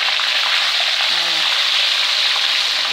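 Chopped garlic and onion sauté in hot oil for smelt fritters, giving a loud, steady, close sizzle that fills the whole stretch without pause.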